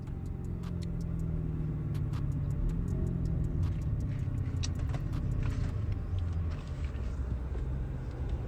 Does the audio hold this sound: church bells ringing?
no